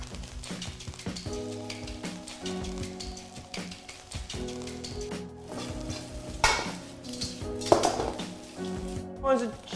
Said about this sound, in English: Prawns. Sear them, bring the stuff over the top.